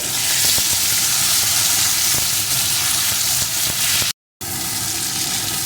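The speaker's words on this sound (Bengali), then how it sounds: "এখন এর ভিতরে দিয়ে দেবো আমি একটা টমেটো কুচি এটাকেও কিছুক্ষণ ভেজে নেব" Chopped tomato hits taro already frying in a pan, producing a loud, steady hiss of frying with faint ticks from stirring and a brief cut near the end, with no one talking.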